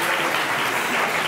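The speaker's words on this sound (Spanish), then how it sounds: "No entiendo este aplauso" Studio audience applauding at a Spanish TV talk show, dense steady clapping that fills the short clip at full, even loudness with no voices over it.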